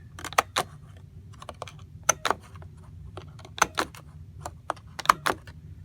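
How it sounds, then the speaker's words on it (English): Bernard hole punch being worked by hand, sharp metallic clacks and snaps in irregular pairs over several seconds, close and crisp against a quiet low background. "we have these nice Bernard hole punchers, and you can see the action on that"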